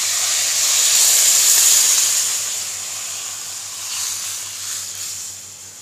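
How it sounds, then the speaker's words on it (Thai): Water poured into a hot pan of fried curry paste sizzles and hisses with a loud burst of steam that swells, fades, and briefly flares again. "ใส่น้ำลงไปเลยครับ"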